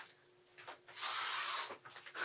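An aerosol spray can, aimed at a fly, gives a single steady hiss of about three quarters of a second, close and loud, between soft indoor noises.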